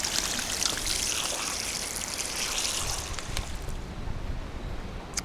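A drinking fountain on a walking trail near a large rock in Calpe, Spain, runs with a steady splashing trickle of water close by. The flow is constant, with faint clicks and no speech.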